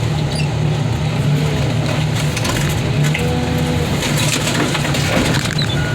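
Junk being crushed at a scrapyard, heard as a steady, loud mechanical roar with a constant low engine drone and scattered creaks and squeals of metal grinding throughout.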